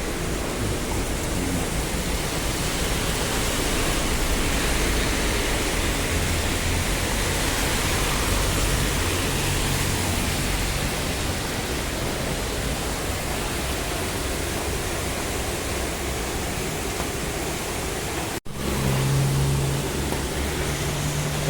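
Heavy monsoon rain pours steadily in Kalimpong, a dense, loud, unbroken hiss of rainfall on surfaces lasting throughout, cut by one brief dropout near the end with a low hum afterward.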